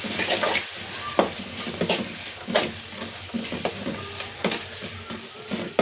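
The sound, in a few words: stirring green chilies and turmeric frying in a pan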